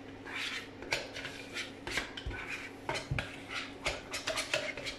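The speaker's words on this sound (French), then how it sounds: "je vais prendre là mon fouet pour pouvoir mélanger tout ça" A whisk beats mascarpone in a bowl, giving a steady run of quick metallic clicks and rattles against the bowl, close and continuous with a slightly uneven rhythm.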